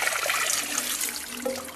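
Water poured out of a container onto the ground for birds and garden plants on a warm day, a short splashing gush lasting under two seconds with no talk.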